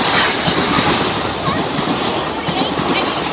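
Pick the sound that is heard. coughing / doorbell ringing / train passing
train passing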